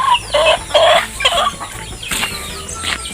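Several chickens cluck close by in short, uneven bursts, with scattered sharper squawks among the flock.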